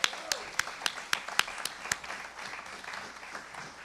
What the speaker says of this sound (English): So I think a round of applause is in order right now to celebrate this